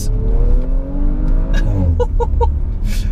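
A 2018 Audi RS4 Avant's engine pulls hard and loud up close, its rising roar broken by quick gear changes in the 8-speed automatic gearbox.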